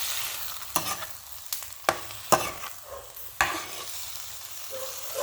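Squid being stirred in a hot frying pan at home, with a spoon scraping and clattering against the pan in several sharp strokes over a steady sizzle.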